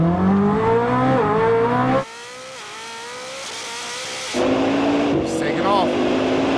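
A hypercar, either a Koenigsegg Jesko Absolut or a Bugatti Chiron Supersport, accelerates hard with a loud rising engine note that climbs through gear changes, shifts in intensity, and is joined by excited voices talking over it.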